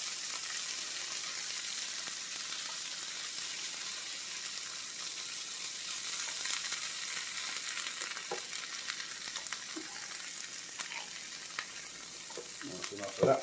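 Canned tomatoes frying in a pan for an egg and tomato dish, a constant soft sizzle with occasional scrapes and taps of a utensil toward the end.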